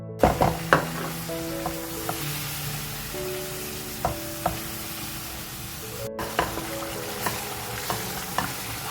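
Mutton pieces cooked with turmeric, cumin and red chilli powder sizzle steadily in a pan for beetroot gosht, a continuous close frying hiss with occasional sharp pops and clinks of stirring, no talk.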